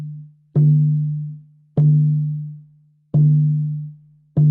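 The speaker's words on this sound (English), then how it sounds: "Just with the sound of the drum." Four deep, resonant drum beats at a slow, steady pace, each booming note ringing out and fading before the next strike, with no voices.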